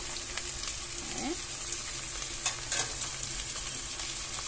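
Continuous crackling sizzle of food frying in coconut oil in a pot, with scattered pops and a brief stirring scrape, close and steady throughout.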